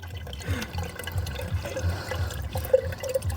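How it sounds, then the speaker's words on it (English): Water trickles steadily from a clogged car drain hose into a pickle jar, a low continuous pour with small splashy drips and occasional brighter plinks, fairly close and without talk. "The pickle jar's getting full, CJ."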